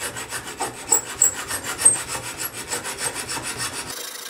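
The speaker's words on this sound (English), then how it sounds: "I'm finishing it off with a file and some sandpaper" Rasping file and sandpaper strokes work a wooden truss rod channel in a guitar neck, a steady run of repeated scraping passes, close and fairly quiet, with no talking.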